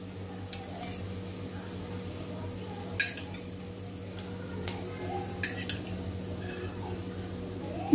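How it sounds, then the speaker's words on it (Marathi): A dish being stirred in a pan before soy sauce goes in, with soft scraping and scattered clinks of a utensil against the pan over a low steady sizzle. "आणि परत आपण चांगलं ढवळून घेऊया"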